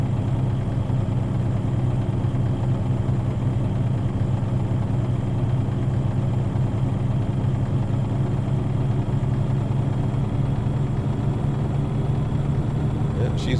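An International truck engine in American Truck Simulator, a steady low droning rumble held at high revs, loud and unbroken for the whole stretch.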